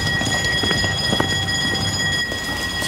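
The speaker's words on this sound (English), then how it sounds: "Why is the alarm still going?" A burglar alarm rings continuously with sustained high-pitched electronic tones after a break-in, over a busy background of clatter and low rumble.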